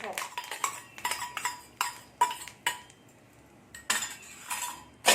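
A spoon clinks and scrapes against a pan while mustard seeds, cumin and other ingredients are stirred together, giving sharp irregular metallic knocks in bursts with short pauses between.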